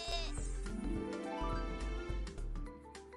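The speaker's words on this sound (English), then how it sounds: "Mountain goat, little jumpy." Mountain goat bleating in the Rodeo Stampede video game, a loud wavering cry up front followed by layered game music and effects for about three seconds, with no talk.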